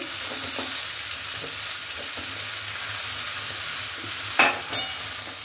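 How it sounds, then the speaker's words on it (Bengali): Mixed vegetables for a Bengali shukto fry in a pan with a constant close sizzle, broken by a couple of sharp stirring clatters near the end. "সবজিগুলো কত সুন্দর একে একে সব ভাজা হয়ে যাচ্ছে"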